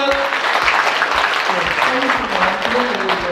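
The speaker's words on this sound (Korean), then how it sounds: "박수 한번 부탁드립니다" Applause at the opening ceremony of the Busan Art Association's 80th anniversary exhibition, a crowd clapping steadily and fairly loudly while someone speaks over it through a microphone.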